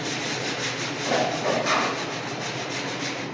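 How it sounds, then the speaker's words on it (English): A hand file rasps across a welded metal car body panel in steady back-and-forth strokes, close and moderately loud, with no talking. "Try not to hit your welds because you're just going to mess your file up."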